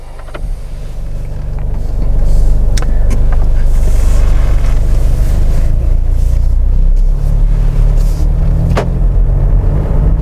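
A Jaguar F-Pace SUV driving along a road, with a steady low engine and tire rumble heard from inside the cabin throughout.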